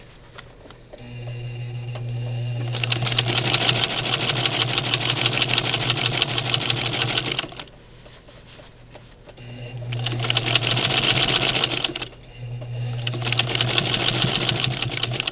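A sewing machine stitches a seam on a five-layer face mask, running in loud steady bursts with brief pauses between them; it hesitates slightly at the start because of a belt that needs adjusting.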